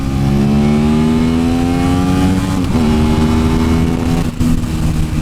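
600cc super sports motorcycle revving hard as it accelerates into a wheelie, a loud, close engine climbing steadily in pitch with a brief dip and recovery near the end, heard alone.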